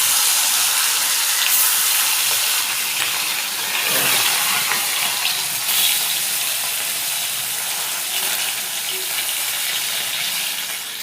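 Small carp fish slid into well-heated oil in a pan for a light fish curry, producing a loud, continuous, even sizzle that holds steady throughout, with no talk.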